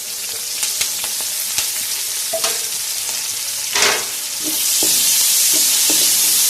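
Onions frying in a pan with green chili and tomato, cooking for a mutton, potato and pea curry. A steady sizzle rises louder near the end, with scattered clinks and stirring scrapes close up, and no talking.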